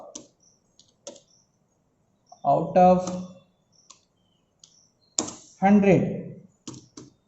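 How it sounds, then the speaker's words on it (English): Computer keyboard keys click in short bursts of typing between spoken phrases, close and crisp, with brief pauses while a person talks. "you can write with the help of keyboard"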